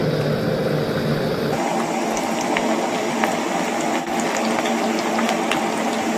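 Ivy gourd (dondakaya) pieces frying in hot oil over a medium flame, a loud steady hiss and bubbling sizzle with fine crackles, close and continuous, without speech.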